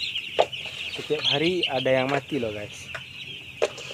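A crowded broiler house of about 40,000 chickens fills with constant clucking and chatter, loud and near, while a person talks over the flock.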